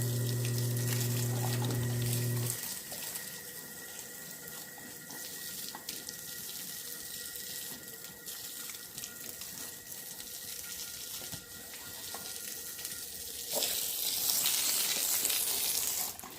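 A garden hose runs water in a steady broadband rush that fills the whole stretch, starting after a short tonal hum and brightening into a harsher spray near the end, with no talking.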